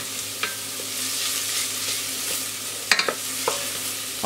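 Shallots and aromatics sweating gently in a pan as the base for a Bercy sauce, a soft steady sizzle close up with occasional light clicks and scrapes of a utensil against the pan.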